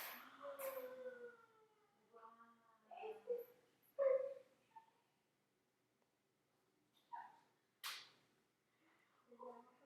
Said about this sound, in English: My dog's still walking around whining.